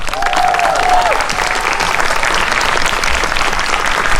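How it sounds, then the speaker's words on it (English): A school spring pops concert audience in a full auditorium claps loudly and continuously, a thick roar of many hands near and constant, with a brief whistle-like tone early on, for an orchestra and its conductor. "round of applause for Mr. Roger Espinoza."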